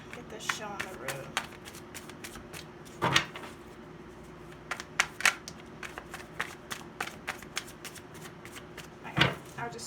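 Tarot cards being shuffled by hand: repeated soft riffling and slapping bursts of card against card in an uneven rhythm, close and fairly quiet, with a person talking over them.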